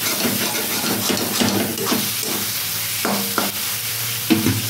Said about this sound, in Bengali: দিয়ে আমি এটাকে আবার ভালো করে নাড়ব,